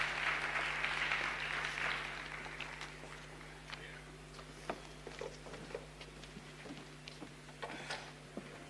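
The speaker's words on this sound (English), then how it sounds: "A round of applause for them," Audience applause for a group of named guests at a World Intellectual Property Day event, a dense patter of clapping that is strongest at the start, then thins to scattered individual claps over a steady hum.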